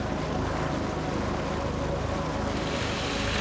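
A 49er FX skiff races across the Hauraki Gulf at night, a dense, steady rush of wind and water noise heard up close with no voices.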